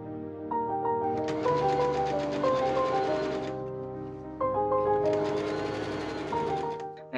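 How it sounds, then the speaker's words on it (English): A machine stitches a seam on a linen chemise in two steady bursts of whirring, partly masked by prominent background music that plays throughout. "I machine sew that seam up"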